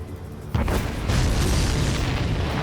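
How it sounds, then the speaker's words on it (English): A sudden deep boom erupts in the jet combat video game Ace Combat 7, followed by a sustained rumbling roar that fills the rest of the moment, loud and close. "Did you see that explosion?"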